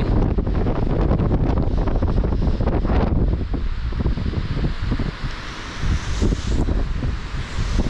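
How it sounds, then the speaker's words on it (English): Strong, blustery wind on a mountain hike buffets the microphone with a loud, continuous roar and rumble, gusting unevenly throughout with no voices. "It's super windy."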